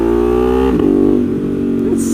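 Ducati Monster 1200 motorcycle fitted with carbon wheels, its exhaust droning loud and steady on a ride along twisty roads, with the engine note dipping and shifting partway through.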